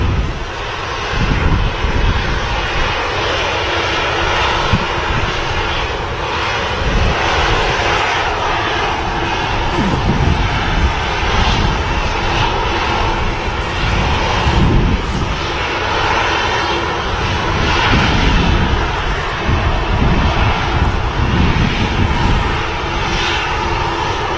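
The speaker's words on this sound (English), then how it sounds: "this Ryanair just holding short of the runway, waiting for something to happen" Ryanair jet airliner holding short of the runway at Manchester Airport, its engines giving a loud continuous whine and rumble that holds steady throughout with slight fluctuations.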